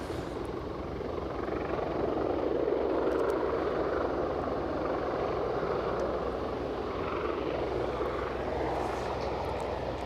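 A helicopter flies nearby at Aberdeen airport, its rotor and engine producing a continuous, steady rumbling drone throughout.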